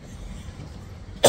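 A single sharp cough bursts out at the very end, loud and close, after a stretch of low background murmur.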